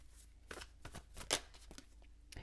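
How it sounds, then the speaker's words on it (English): Tarot cards are shuffled and drawn by hand, producing soft, close riffling and flicking bursts at an uneven rhythm, quiet and with no talking. "And let me get another card here"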